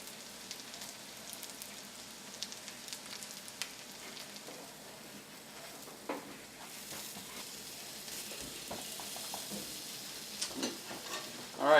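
Black bean burgers frying in a little oil, a steady close sizzle with scattered pops and crackles that grows busier toward the end, with no talking.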